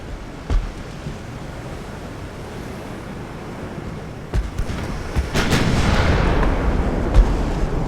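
Warship 9-inch guns fire in a naval battle in Ultimate Admiral: Dreadnoughts, a distant boom early on, then several sharp blasts in close succession over a steady rumble of sea and wind.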